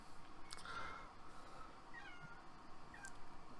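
A house cat meows several times, faint and somewhat distant, its short plaintive calls rising over a quiet room background without talking.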